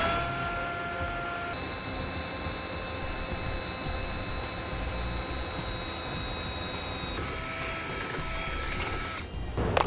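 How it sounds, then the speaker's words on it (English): A power drill bores a pilot hole through the steel frame rail of a 2018 vehicle for a base plate install, with a continuous close whine and grind that holds steady for nearly ten seconds before stopping abruptly. "I'll switch to the smaller bit to drill a pilot hole first."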